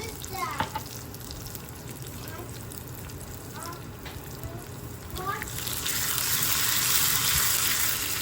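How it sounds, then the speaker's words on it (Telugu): Garlic and mustard seeds are tempered in ghee for tomato rasam, a low frying crackle under light background noise that swells into a louder, hissing sizzle near the end. "దీనిలో అయితే వెల్లుల్లిపాయలు వేసేసాను, తాలింపు వేస్తున్నాను రసంకి. దీనిలో ఇప్పుడు కొంచెం ఆవాలు,"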